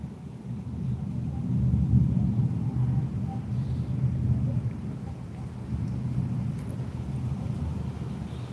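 Low, rolling thunder rumbles continuously with steady rain, swelling and fading in broad waves over several seconds without any speech.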